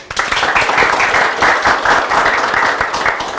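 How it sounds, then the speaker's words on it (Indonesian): A group of people applauding, dense and lively clapping close by, sustained for a few seconds. "Tepuk tangan dulu."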